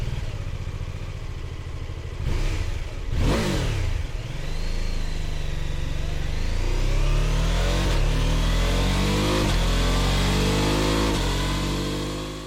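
A BMW F 450 GS motorcycle's 420cc inline twin-cylinder engine, rated at 48 horsepower, revs up in quick throttle blips, then climbs in steady, rising revs. The sound is close and loud, with no talking.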